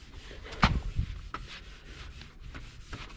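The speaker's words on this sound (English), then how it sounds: "Put some wax over this, cover some of the scratchies." Wax worked by hand onto scratched, rock-chipped car paint gives soft, irregular rubbing strokes, close and fairly quiet, with a few sharper swipes and no voices.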